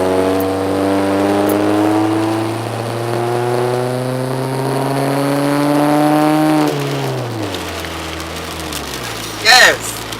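A repaired car engine runs steadily with a droning, rising rev, then drops off sharply as the throttle closes, followed by a brief sharp burst near the end.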